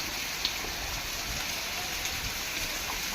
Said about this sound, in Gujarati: વરસાદ એવો આવે જો ત્યાં કેવો વરસાદ આવે મોટા મોટા સાટાઓ આવે